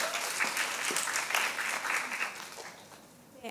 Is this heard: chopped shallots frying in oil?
no